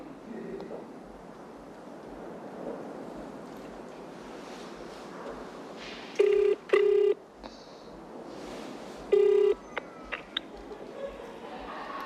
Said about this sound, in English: let's phone him.